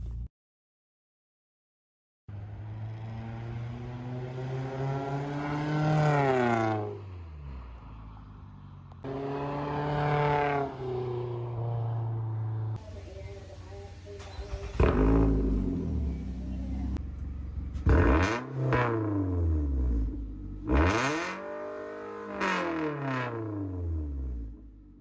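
A Nissan Altima four-cylinder with a straight-pipe, muffler-delete exhaust revs repeatedly after a brief silence, with several rising and falling bursts, loud and raspy close by.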